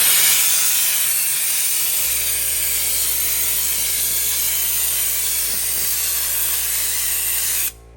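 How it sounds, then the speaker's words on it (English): Spray gun applying Lizard Skin coating to a 2013 Chevrolet Silverado truck, a loud continuous high-pressure hiss with a steady compressor hum joining in, running evenly before cutting off abruptly at the end. "There's our lizard skin all sprayed"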